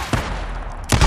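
Two bursts of gunfire in the Days Gone video game, one short and one at the end, crack through a steady low background rumble.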